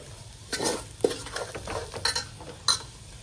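A spoon stirs masala in a pan while cooking Kerala-style beef curry, giving scraping strokes and a few metallic clinks over a faint sizzle, moderately quiet and without talk.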